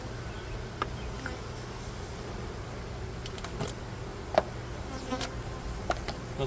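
Honeybees crawling on a glass observation hive frame make a steady, low, droning hum, with a few faint clicks and taps over the constant buzz.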